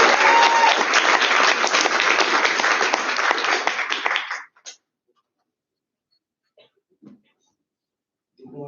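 An audience at a veterinary student congress applauds for about four seconds, then the clapping breaks off into near silence with a few faint scattered sounds.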